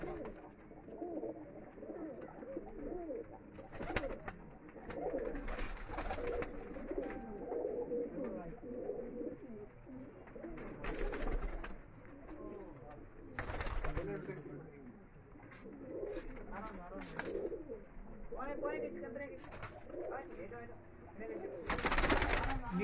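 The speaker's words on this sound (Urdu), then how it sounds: "یہ دیکھیں بہت ہی عمر رسیدہ کبوتر ہے" Pigeons of a rare breed coo repeatedly from a rooftop loft, their soft throaty calls recurring steadily throughout, with people talking nearby and occasional flutters and bursts of handling noise.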